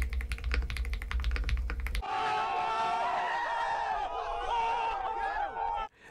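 Rapid typing on a custom Zuoya GMK67 mechanical keyboard with tape on the space bar, a dense run of close, crisp key clacks, preceded by a brief burst of louder mixed noise.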